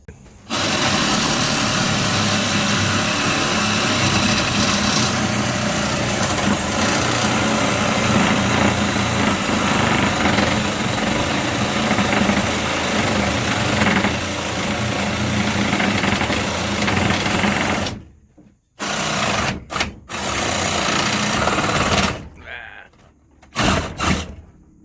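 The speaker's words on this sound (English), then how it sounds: "take a sawzall and we'll cut it smaller pieces so we can remove it." A Sawzall reciprocating saw cuts through old galvanized water pipe during a water heater relocation, a loud steady buzzing drone running for about eighteen seconds before stopping, followed by a few short bursts and scattered clanks.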